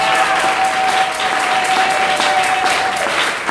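A church congregation applauds in a loud, dense, continuous burst of clapping that holds steady throughout, with a faint sustained tone running beneath it.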